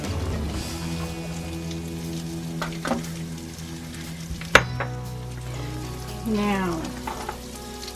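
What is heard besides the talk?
carrots and cauliflower sizzling on grill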